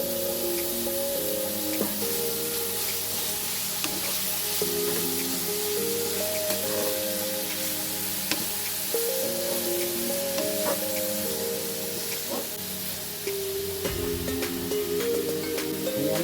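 Cabbage stir-frying in a pan for Filipino pancit bato, a steady loud sizzle with repeated scraping and tossing of the spatula, close up and continuous.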